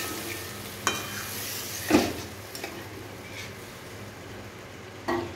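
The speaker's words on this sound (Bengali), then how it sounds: "এবার ওর মধ্যে আমি জল দিয়ে দিচ্ছি" Water poured into a pan of sizzling fried spice masala while cooking a Bengali egg curry, giving a steady hiss with a few sharp bursts and clinks near the pan, no voices.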